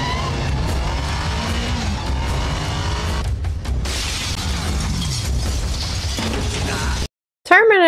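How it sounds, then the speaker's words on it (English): Car chase scene in Terminator 2: Judgment Day with engine roar, crashing and skidding as a vehicle smashes through buildings, loud and continuous before an abrupt cut near the end. "They just drive through buildings instead of around them or whatever."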